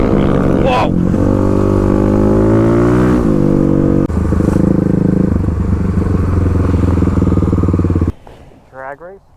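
A Kawasaki KLX351 dirt bike on new knobby tires, its engine droning steadily close by for about eight seconds before cutting off into brief quieter engine sounds at the end.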